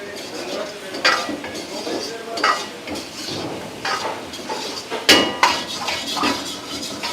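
Deep-fried paneer, coated in maida and cornflour, tumbling into a pan and being stirred, with repeated metal scrapes and clinks of a spoon against cookware over a soft sizzle.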